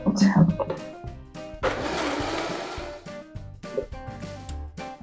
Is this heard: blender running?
yes